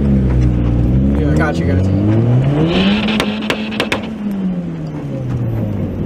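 A turbocharged Honda F20B engine fitted with an eBay turbo kit revs up and down in loud, sweeping pulls with sharp wastegate chatter mid-rev, while someone talks briefly over the noise.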